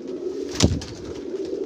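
A golden red-eyed pigeon coos in a low, steady hum, interrupted midway by a single sharp burst like a flap or knock.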